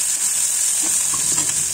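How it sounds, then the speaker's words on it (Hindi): Chopped onions with a bay leaf fry in hot oil, giving a steady bright sizzle with faint stirring scrapes underneath, close and continuous, without talk. "प्याज को थोड़ा भून लेते हैं 2 मिनट तक।"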